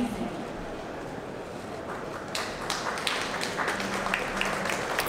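Subdued scattered clapping from a small crowd at an electric SUV concept unveiling at the 2017 Frankfurt motor show, starting halfway through as light irregular taps over hall murmur.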